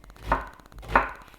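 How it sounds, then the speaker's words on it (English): Two distinct knife chops strike a cutting board while an onion is finely chopped, close and crisp with a faint rhythmic background. "finely chop this onion, because I don't want big chunks of onion."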